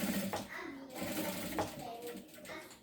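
Sewing machine stitching a curve on a shoulder bag with a toothed presser foot, running in short start-stop bursts that speed up, with faint chatter in the background.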